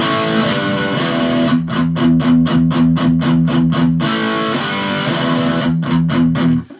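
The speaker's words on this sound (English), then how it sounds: "A lot of the distortion you're going to get out of your guitar" A loud, distorted electric guitar plays the chugging riff of a song with steady rhythmic chords and a brief pause, ending abruptly.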